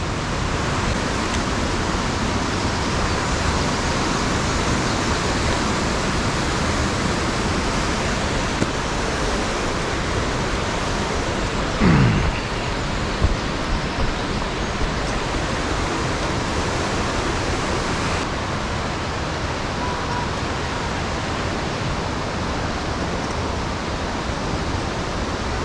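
Abe Great Falls, a waterfall on a forest trail in Japan, pours as a constant broad roar, loud and steady throughout, with a faint brief sound near the middle and no talk.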